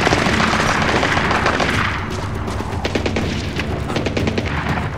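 Dense gunfire from Splinter Cell Blacklist gameplay, with rapid cracks and booms over a heavy rumble, loud at first and then thinning into scattered shots.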